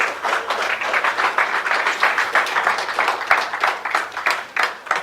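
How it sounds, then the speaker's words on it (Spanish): A church congregation claps and applauds during a Spanish-language evangelical service, a steady moderately loud wash of clapping that pulses slightly throughout with little talk over it. "Así que denle un aplauso al Señor."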